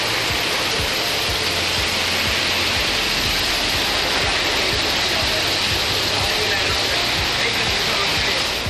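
Heavy rain driven by wind pours down outdoors in Tamil Nadu, a dense, loud, continuous rushing hiss with a low steady rumble underneath and no break throughout.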